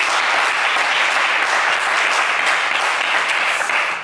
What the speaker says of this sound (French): Allez, on applaudit Sorry, s'il vous plaît.